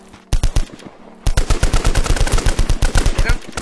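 Automatic gunfire in the Roblox game Trident Survival: a short burst of rapid shots, a brief pause, then a longer steady string of loud, close, evenly spaced shots.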